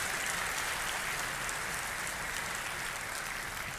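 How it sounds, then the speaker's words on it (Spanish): An audience gives a church congregation's applause for married couples, a steady hiss of many hands clapping at a distance, even and sustained throughout. "démosle un aplauso a los casados"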